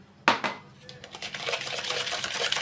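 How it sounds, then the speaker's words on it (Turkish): Batter is whisked in a bowl after milk and salt go in, opening with a sharp clink of the whisk on the bowl, then a fast continuous scraping and sloshing beat up close. "tekrar gene çırpıyoruz güzel bir şekilde"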